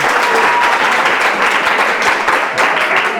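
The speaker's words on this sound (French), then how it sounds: "Est-ce qu'on peut les applaudir très fort?" A crowd applauds loudly and continuously, a dense wash of clapping that holds steady from start to finish.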